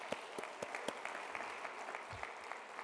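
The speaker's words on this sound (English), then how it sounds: "Let's give them a round of applause." An audience applauds at a student business challenge event, steady mid-sized clapping from a room of people with a few sharp nearby claps standing out, moderately faint and continuous.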